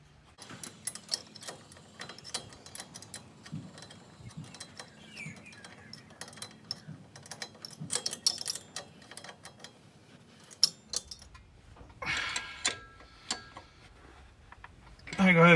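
A socket or ratchet on bolts while fitting adjustable control arms to an 80 series Land Cruiser gives quiet, rapid clicking in scattered bursts, ending with louder clattering handling noise.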